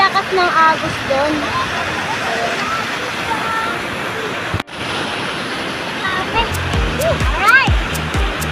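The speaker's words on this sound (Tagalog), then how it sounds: "sobrang lakas ng agos doon" Strong rushing current at Bolinao Falls in Pangasinan, a steady broadband roar of falling water filling the whole clip, with a brief dropout midway and a few faint sharp sounds near the end.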